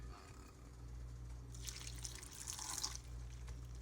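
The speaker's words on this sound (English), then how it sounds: "And I'm just going to fill it with water, actually." Faint tap water pours into a blender holding greens, frozen raspberries, blackberries, blueberries and a banana, a soft bright rush lasting under two seconds over quiet room hum.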